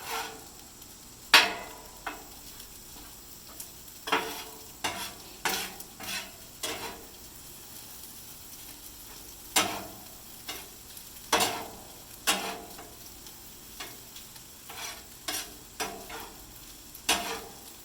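Teriyaki sauce heats with chicken fried rice in a pan, a low sizzle under repeated sharp scrapes and knocks from stirring that come in irregular bursts.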